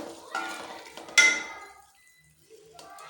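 Coarse kaleji karahi masala being stirred and mixed in a pan, giving a few scraping, clinking utensil strokes with one sharp metallic clatter, then quieter stirring.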